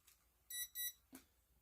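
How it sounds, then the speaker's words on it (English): A TSRC Q8 drone's remote controller beeps during compass calibration: two quick, faint electronic beeps in close succession, then a soft click, with no voices. "rotate it and wait for the remote to beep"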